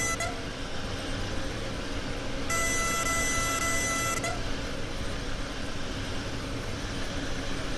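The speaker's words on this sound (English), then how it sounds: "Time to give it a honk honk." An ICE high-speed train horn in Train Sim World 5 gives one steady, loud blast of almost two seconds over constant rumbling running noise.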